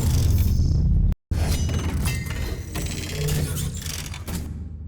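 Futuristic robotic sound effects from the Robotic Lifeform 2 library, triggered together in Krotos Reformer Pro: a loud, dense, crunchy and glassy metallic texture that runs almost continuously, broken by one short dead-silent gap near the start.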